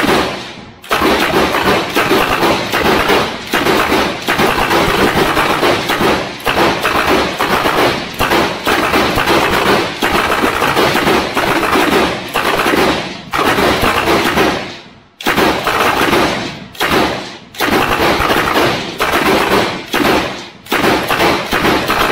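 A Bren light machine gun fires in a long series of loud, sharp shots and short bursts over about twenty seconds, each report echoing with brief pauses between, and no talking.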